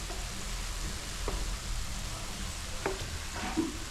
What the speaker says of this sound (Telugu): ఇవి వేగుతున్నాయమ్మా